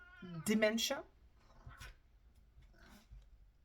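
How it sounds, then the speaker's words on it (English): An aging cat that may have dementia lets out a loud, strained meow-like yowl near the mic, followed by quieter rustles and faint sounds. "if you hear some weird noises, it's my cat"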